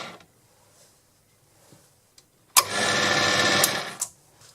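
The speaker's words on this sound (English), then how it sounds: "I used this internal threading tool on the other side to cut away from the chuck with the lathe in reverse." A Proxxon PD 250e lathe running in reverse while an internal threading tool cuts away from the chuck gives a steady mechanical whir lasting about a second and a half, preceded by quiet faint taps and ending with a brief knock.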